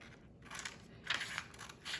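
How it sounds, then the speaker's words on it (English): Scissors snip through folded paper, cutting a section down the middle, in a few quiet crisp bursts of rustling cuts, close and faint with no talk. "cut down the middle that way"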